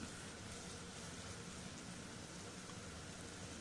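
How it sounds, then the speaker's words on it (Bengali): Sliced onions fry in a pan with a faint, even sizzle, a steady hiss with no talk. "এটা পেঁয়াজগুলো এবার একটু ভালো করে ভাজবো"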